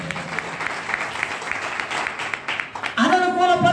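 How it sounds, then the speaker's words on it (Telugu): Church congregation at a prayer service clapping together in a steady burst of applause, joined near the end by a loud voice speaking over it. "చప్పట్లు దేవుని మహిమపరచండి"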